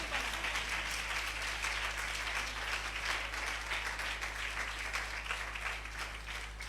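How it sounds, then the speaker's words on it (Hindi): Church congregation clapping during an Urdu sermon on giving, a quiet but steady wash of applause over a low constant hum, continuing throughout. "भरपूर तालियां बजाएं।"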